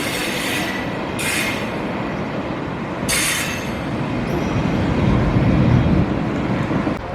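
An Inter-City train runs through Köln near Deutz with steady rolling rumble and a couple of sharp bright wheel squeals, loud and close throughout with no talk.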